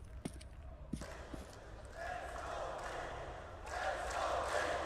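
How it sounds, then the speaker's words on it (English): Arena crowd at a CS:GO esports match, the PGL Major in Krakow 2017, swells from a low murmur into rising cheering that grows louder toward the end, with broadband roar building over a steady background. "Oh, now the crowd are coming to life."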